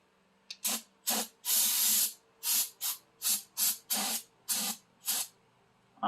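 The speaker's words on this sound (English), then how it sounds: "I'm going to spray this down with some brake parts cleaner" Repeated short bursts of brake parts cleaner aerosol spraying on a 1991 Toyota MR2 axle seal area, about ten sprays of varying length with brief silences between, close and fairly loud.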